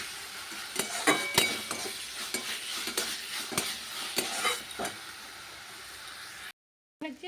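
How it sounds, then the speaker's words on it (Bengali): Okra frying in a pan gives a soft, continuous sizzle, broken by sharp clinks and scrapes of stirring that come in an uneven rhythm, until the sound cuts off abruptly near the end. "ভেন্ডি ভাজছি।"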